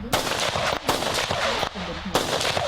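Tourists fire guns in rapid bursts at a shooting range in Vietnam, sharp close reports repeating several times over a noisy background while someone narrates.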